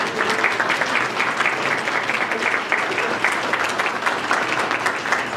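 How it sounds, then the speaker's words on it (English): A crowd claps steadily for a group of about ten volunteer kids at a Civil War camp sign unveiling in Oakmont, a dense, even applause that holds for several seconds. "Let's give them a round of applause."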